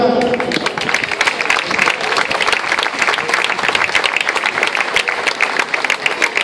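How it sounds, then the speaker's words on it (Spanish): Dense, steady applause from an audience at a Spanish-language concert stage welcoming a performer, loud and continuous throughout, with a faint voice near the start. "Vamos a recibirle con el aplauso."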